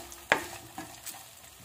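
Small diced potato pieces being stirred in a pan while cooking sabudana khichdi, a faint scrape followed by a couple of soft stirring taps and light sizzle.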